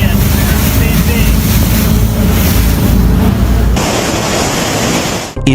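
Loud, continuous rush of churning sea water from a tidal whirlpool of swirling eddies near Lofoten, Norway, heavy with wind buffeting that shifts in texture partway through and drops out briefly at the end.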